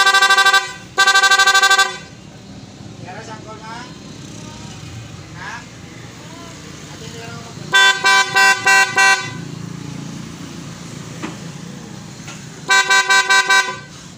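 Loud PIAA aftermarket car horn blasts in short bursts on a newly installed setup: a long double honk at the start, then rapid repeated toots twice later, with engine noise and talk in between.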